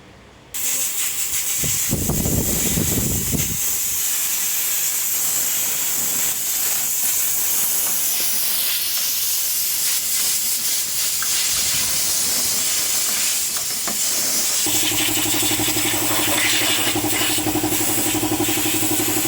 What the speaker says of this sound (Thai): เดี๋ยวจะได้จัดการเป่าฝุ่นทำความสะอาดให้นะคะ